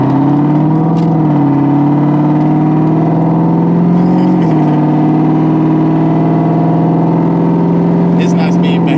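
A 2002 Ford Mustang GT engine drones loudly and steadily from inside the car while driving, its pitch shifting slightly as it changes speed, with people talking over it.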